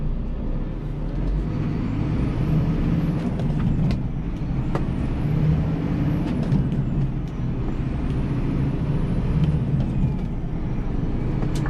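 A lorry with a 4 over 4 gearbox pulls away in first gear, its engine drone steady and loud inside the cab, with a rising and falling whine as it gains speed and a few faint clicks over the hum.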